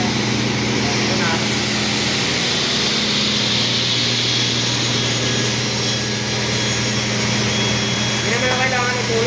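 A precision panel saw running at full speed and cutting a panel, producing a loud, steady, whining roar that holds unbroken throughout, with a person talking over the machine noise.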